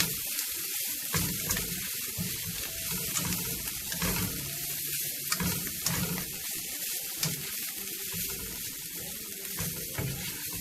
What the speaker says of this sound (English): And I'll just combine it all, stir it all up.